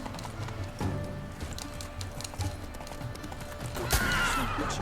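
Geralt's horse Roach in The Witcher 3 whinnies loudly near the end, after a steady clip-clop of hooves at a trot that carries through the whole stretch.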